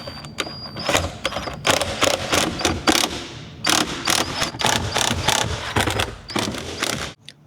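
Screws securing a Tesla dashboard are driven in, a fast run of clicking ratchet-like ticks and rattles in rapid bursts, close and fairly loud, pausing briefly midway.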